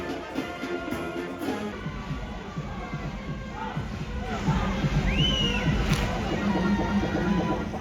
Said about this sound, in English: the King Kamehameha Celebration Floral Parade starts moving down Kalakaua Avenue